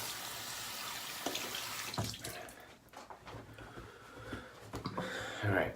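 Water running from a sink tap during a rinse after a beard shave, a continuous close splashing and trickling with some louder splashes near the end.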